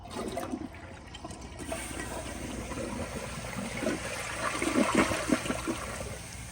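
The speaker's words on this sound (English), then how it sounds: "So here's the flush." A 2004 Kohler Highline Ingenium toilet flushes with a weaker replacement part, starting slowly before a steady rush of water swells and gurgles nearby for several seconds.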